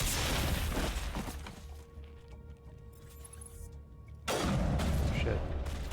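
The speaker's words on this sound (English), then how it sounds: "Gotta throw that grenade into that every time." A grenade detonates in Mass Effect, a loud crashing burst with shattering debris, then a quieter stretch of gunfire and mechanical noise before a second loud blast of noise, with voices speaking.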